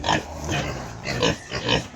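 Two sows grunting close by in several short, rough bursts, one after another with brief pauses between them.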